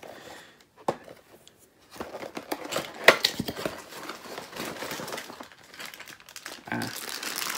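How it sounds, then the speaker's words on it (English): A board game box for GKR Heavy Hitters is opened up close, with continuous crinkling and tearing of its plastic packaging, sharp rustles and a few louder snaps over several seconds, with no voices. "So just open this box up in the corner."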